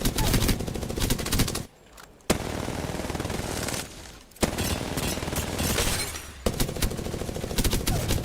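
Rapid automatic gunfire from smart bullets in the game Apex Legends, loud sustained bursts broken by two brief pauses, with sharp impact crackles layered over the shooting and no talking.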